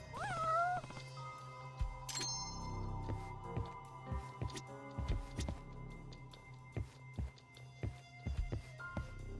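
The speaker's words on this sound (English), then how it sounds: "Oh, that is a loud-ass cat." A loud cat meows in the video game Judgment, a rising, wavering cry near the start, followed by footsteps and game ambience with scattered thuds and clicks.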